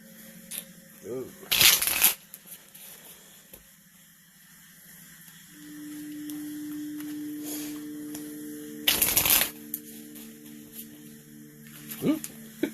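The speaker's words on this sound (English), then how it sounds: "So let's fold these again. Shuffle them." Two quick bursts of cards being shuffled, crisp riffling rasps separated by a quiet stretch with a faint hum.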